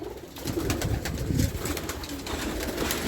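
Racing pigeons returning to the loft coo softly amid a steady, noisy background, their low murmuring calls repeating over a constant hiss.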